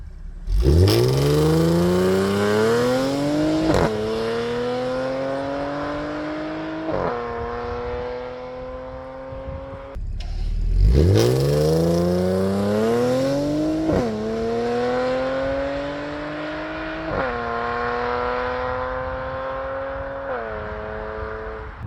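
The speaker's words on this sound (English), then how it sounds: "Let's record and then see how fast the S4 can go from here all the way to the end of this road." A 0-100 km/h sprint in an Audi S4 driven down a road: two hard full-throttle runs, each a loud engine note climbing steadily in pitch through several sharp upshifts, with no talking.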